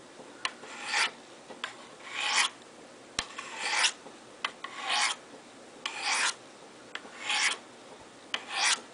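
Knife sharpened on a Spyderco Sharpmaker, a series of about eight short, close rasping strokes, each preceded by a faint tick, in an even alternating rhythm.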